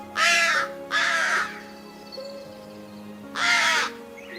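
A crow gives three harsh, loud caws up close, two in quick succession and then one more after a pause, over a faint steady background hum.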